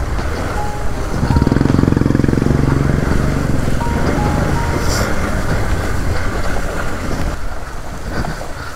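A Hero Xpulse 200 4V motorcycle crosses water off-road, its engine droning loudly and steadily with splashing and rushing water noise throughout, swelling after the first second and easing toward the end.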